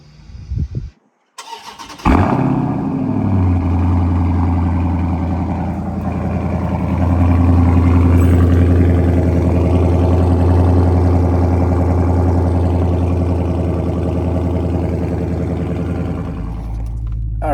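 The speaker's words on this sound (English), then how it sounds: "So basically I went with the Borla Atak exhaust system." A 2021 Dodge Charger Scat Pack with a Borla Atak muffler starts up after a brief click, its V8 barking to life then settling into a loud, deep, rumbling idle with a mild swell of revs midway.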